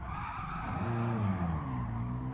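Tires skidding under a brake drift entry in Gran Turismo 7, a continuous squeal with a rising, wavering engine note, steady and fairly close for about two seconds.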